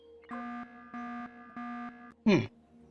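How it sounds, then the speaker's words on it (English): Wrong-code warning from a keypad in the survival game Empyrion Galactic Survival: three evenly spaced electronic beeps, then a short harsh buzz, loud and clear with nothing else over them. "It said beep beep beep, wrong code."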